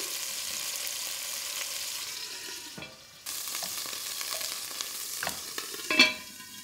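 Beef sizzles steadily while browning in a pan over medium-high heat for a shallot stew, a constant close frying hiss with brief stirring scrapes and a short dip partway through.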